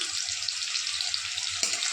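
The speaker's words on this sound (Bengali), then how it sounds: "কড়াইতে সাদা তেল গরম হচ্ছে।" Chopped potatoes fry in white oil in a wok, giving a steady, close bubbling hiss with a brief louder crackle near the end and no talking.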